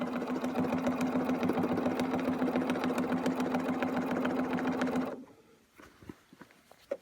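A sewing machine runs at slow speed, stitching thread through fabric for a Texas wildflower quilt pattern, a steady close whirring hum for about five seconds before it stops, leaving faint handling noises.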